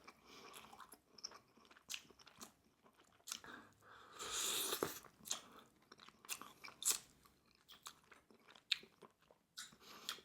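Messy eating of baby back BBQ ribs up close: soft wet chewing and smacking with occasional sharper bites and a louder crunchy burst midway, quiet and intimate with no talking.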